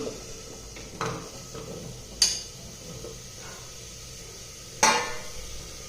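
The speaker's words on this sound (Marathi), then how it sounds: "त्या कुकरमध्ये या आंब्याच्या फोडी घालत आहे" Small pieces of mango drop into a metal pressure cooker set on a gas stove, making a few close clanks and knocks, with two sharp metallic hits standing out against a steady low hum.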